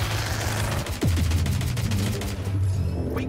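Bursts of automatic gunfire in the video game Watch Dogs Legion during a boss fight, loud, rapid, close shots with booming impacts and a brief pause partway through.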